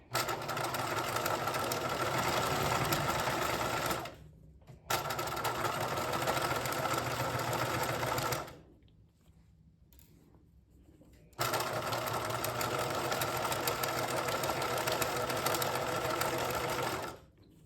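A sewing machine stitching a flap edged with bias binding for a backpack, running in a loud, steady mechanical whir that stops briefly twice, with a quieter gap before it resumes.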